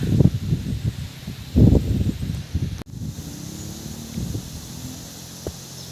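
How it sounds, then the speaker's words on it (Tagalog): Wind blowing across an open mountain summit, a steady rushing and buffeting with low rumbles against the microphone, strongest in the first few seconds, with a sharp click near the middle and no talk. "Hangin!"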